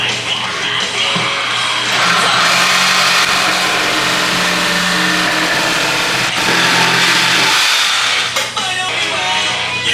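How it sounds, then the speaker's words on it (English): Power saw cutting a 6-inch piece of wood for a Tacoma truck bed drawer build, a loud steady motor whine that runs the whole time with a slight dip near the end, and no talking. "let me go ahead and cut this 6-inch portion"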